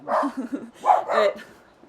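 A dog barks in a few quick, close yips and short barks that rise and fall over about two seconds, with no speech around them.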